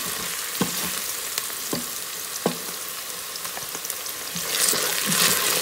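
Ginger garlic paste fries in hot oil while being stirred for a vegetable pulao, a steady crackling sizzle with regular scraping strokes of a spoon against the pot, growing slightly louder near the end.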